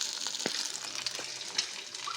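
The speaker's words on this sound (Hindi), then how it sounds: "हाफ फ्राई अंडे हैं, हाफ फ्राई अंडे हैं।" Half-fried eggs sizzling in a hot pan, a continuous bright crackling hiss with small pops and spatters, close and steady throughout.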